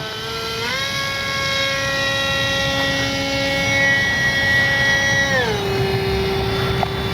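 Electric motor of an RC Horten BV-38 German concept bomber model, rear-mounted, whining steadily at high pitch, rising sharply as the throttle opens, holding loud and even, then dropping back down near the end.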